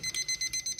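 A kitchen timer set for shortbread candy reaching 237 degrees beeps close and loud in a quick run of about six high, evenly spaced electronic pulses.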